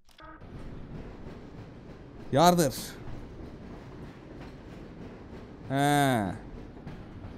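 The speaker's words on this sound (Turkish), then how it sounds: "Aha, benim tren burada." Train in the Half-Life video game, two short rising-and-falling tonal bursts, like horn or brake sounds, standing out over a steady rumbling background, with a person talking briefly.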